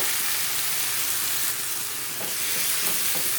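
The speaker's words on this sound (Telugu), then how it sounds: "ఈ టమాటాలు బాగా ఫ్రై అయిపోవాలి దాంట్లో." Tomatoes frying in a pan of hot oil for paneer biryani: a loud, dense, continuous sizzle with a steady hiss that holds evenly throughout, with no talking.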